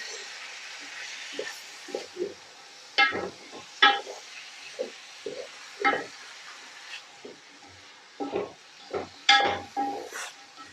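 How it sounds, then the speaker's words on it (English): A spoon stirs biryani masala with chilies in a cooking pot: irregular scraping knocks and soft sizzling bursts come close and moderately loud, with short pauses between strokes. "Give that a good mix."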